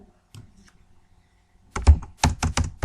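Computer keyboard keys clicking in a quick burst as a SQL query is typed, with a few faint taps before a louder, steady run of keystrokes; no one talks.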